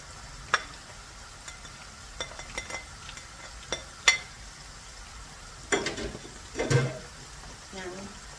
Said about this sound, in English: Now we will stir it slowly.